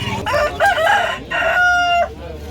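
Roosters crow loudly and close by at a poultry and bird market, several long drawn-out calls one after another with brief gaps, against a busy farmyard background.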